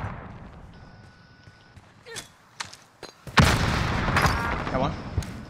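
A grenade goes off in an M4-only shooter video game match. Scattered light thumps and footsteps lead up to a loud blast a little past the three-second mark, which leaves a sustained roar and more thuds behind it while a player talks.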